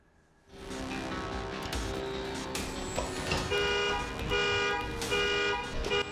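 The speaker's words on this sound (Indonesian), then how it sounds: "Saat pelaku beraksi, alarm mobil berbunyi" A parked car's alarm blares continuously at close range after a sudden onset, a steady electronic wail while thieves wrench off a side mirror outside a house in a residential complex.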